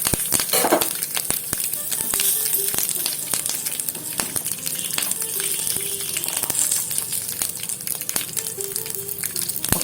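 Curry leaves drop into hot oil already crackling with chillies and asafoetida for a tempering, giving a loud, close, continuous sizzle peppered with sharp pops and spatters.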